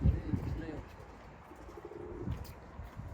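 Low, soft cooing from tumbler pigeons nearby, a few rolling murmurs over quiet background, with a voice talking in Turkish at times.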